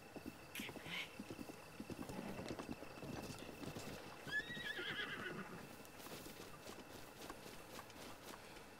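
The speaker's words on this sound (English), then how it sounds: "All right, I got a horse." Horse in the video game The Legend of Zelda: Breath of the Wild whinnying once mid-clip over quiet, steady clip-clopping hooves, fairly faint, with no talk.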